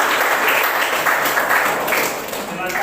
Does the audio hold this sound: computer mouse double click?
no